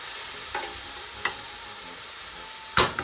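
Salted onions sweating in a pan over lowered heat give off a soft, steady sizzle, joined by a few brief utensil clicks and scrapes, with no talking.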